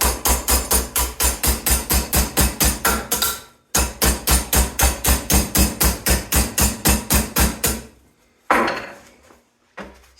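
Rapid, rhythmic hammer blows on metal, two long runs of ringing strikes separated by a brief pause, followed by a few scattered, softer knocks.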